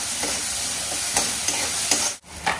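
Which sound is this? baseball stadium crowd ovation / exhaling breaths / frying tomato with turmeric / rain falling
frying tomato with turmeric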